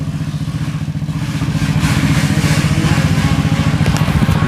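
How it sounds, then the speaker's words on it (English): Motorcycle engines rumble steadily outside, a loud, continuous mid-pitched drone with a rhythmic pulsing clatter that swells slightly partway through, no voices. "You hear that? They're out there riding."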